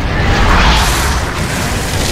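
A loud, dense grenade explosion blast from Gears of War 3, a broad roaring burst that fills the whole clip and lingers without fading.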